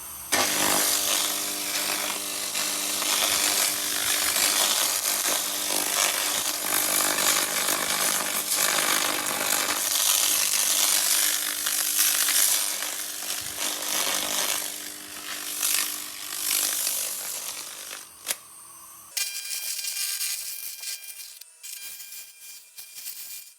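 Laser blaster stripping fresh rust from bare Porsche 914 metal, a steady loud hissing, crackling buzz that runs unbroken for most of the stretch before cutting out near the end, leaving a quieter tonal hum.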